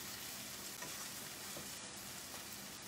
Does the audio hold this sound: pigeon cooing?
no